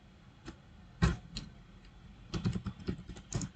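Typing on a computer keyboard, a handful of close key taps arriving in short irregular bursts with brief pauses between them, fairly quiet in a still room.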